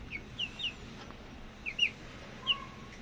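Thirteen-day-old chicks peeping and cheeping in short high chirps, several brief calls spaced unevenly over a low steady background hum, close but faint.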